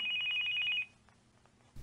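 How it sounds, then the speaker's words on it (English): A cell phone rings once with a short electronic trill lasting under a second, then quiet follows with a brief rustle at the end. "His cell phone rings."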